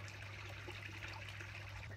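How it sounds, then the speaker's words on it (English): Water runs steadily in an outdoor hot tub, a faint continuous trickling and splashing under a low constant pump hum, with no voices. "I don't know how annoying the sound of the running water is."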